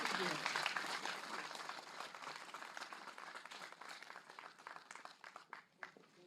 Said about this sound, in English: So I give applause to all of you